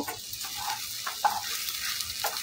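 Sabudana khichdi with chopped coriander is stirred in a pan over a steady frying sizzle, with a few scraping strokes of the spoon standing out, one sharper clink near the middle.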